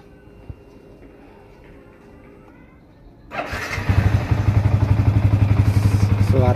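A 2015 Yamaha Vixion Advance motorcycle cranks briefly and fires up, settling into a close, steady, rhythmic idle; a voice speaks faintly underneath.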